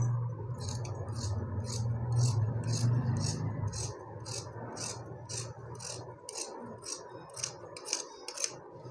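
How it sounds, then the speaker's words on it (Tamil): Scissors snip through saree fabric being cut into a long gown, giving a steady rhythm of about twenty crisp, close cuts over a low rustling background. "இது எனக்கு கரை இருக்கிறதுனால நான் வந்து இப்படி கட் பண்ணுறேன்."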